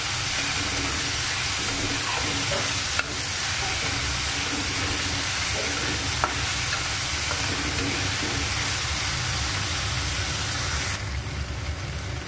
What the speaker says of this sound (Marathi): याच्यातच टोमॅटो घालून घ्यायचा आहे थोडासा, चांगलं परतून घ्यायचं